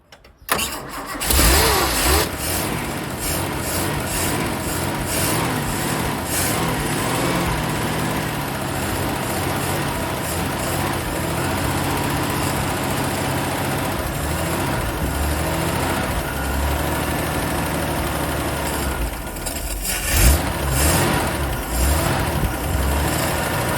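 A Land Rover Series 3 engine cranks briefly, then catches and runs, settling into a steady loud idle close by, with a small surge near the end.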